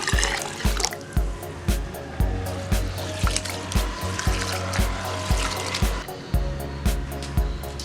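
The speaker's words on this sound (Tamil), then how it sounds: "அரிசியை நல்லா கழுவிக்கலாம்" Basmati rice is swished and rubbed in a bowl of water, with rhythmic splashing strokes about twice a second, close up and without talk.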